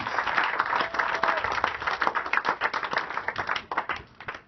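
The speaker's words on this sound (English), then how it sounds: "Yeah, they definitely deserve a round of applause." Wedding guests clapping in a room, a burst of many hands applauding that holds steady and then thins into scattered claps before fading out.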